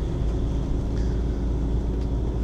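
Camper van climbing a narrow mountain road toward a quarry, giving a steady low engine rumble and drone that stays close and loud throughout, with no talking.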